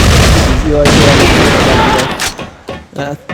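Rapid gunfire in a competitive tactical shooter match, including pistol shots: dense, loud bursts of overlapping shots and impacts, followed by a few sharper isolated cracks with some voice in the mix.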